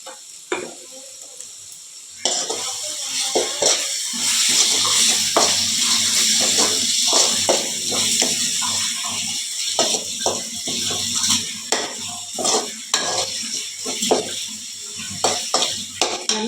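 Ingredients for a tiny-fish (ayirai meen) curry sizzling steadily in a pan, with repeated scraping and stirring clicks over the continuous frying hiss, close and fairly loud.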